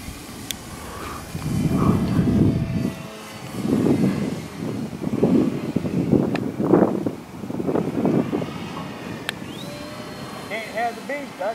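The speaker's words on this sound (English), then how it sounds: "Oh no, he's just doing a flyby," A radio-controlled model airplane makes a flyby over a flying field, its thin motor whine rising and falling in pitch beneath gusty wind buffeting and people talking nearby.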